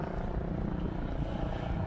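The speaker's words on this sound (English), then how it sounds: "a helicopter again." A steady low rotor drone fills the whole stretch, a helicopter passing overhead at the Port Huron Float Down river event, with constant loud engine rumble and no voices.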